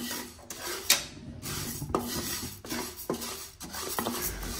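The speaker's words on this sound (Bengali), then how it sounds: "ডাউল নেড়ে চেড়ে আমরা ভালোভাবে মচমচা করে ভেজে নেব।" Mashkalai dal dry-frying in a pan, stirred with a utensil that scrapes and clinks against the metal in repeated strokes, close and fairly quiet with a soft rustle of the grains between strokes.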